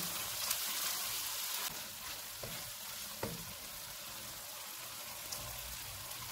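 Paprika powder, crushed black pepper and salt fry in a pan for tuna pasta, giving a steady close sizzle with occasional stirring scrapes and small pops, with no talk.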